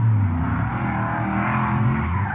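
A V8-powered Volvo 740 drift car is driven around a drift track, its engine droning loud and close with a shifting pitch and faint tire squeal throughout, with no voices.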